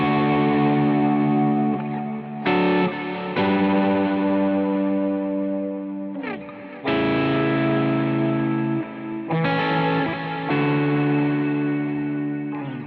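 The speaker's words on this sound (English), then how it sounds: "Add delay to that." Electric guitar strummed chords ring out through a delay effect with a clean worship-style tone, each chord sustaining and echoing into the next, loud and close with no talking.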